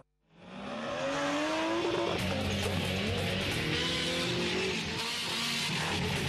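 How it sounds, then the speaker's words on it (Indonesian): Off-road cars roar at the Padang Savana dirt circuit in Tegal, Central Java, during a national off-road championship, their engines loud, sustained and close, with revving and tyre noise and no talk. "Raungan suara mobil-mobil off-road ini menggema di sirkuit Padang Savana"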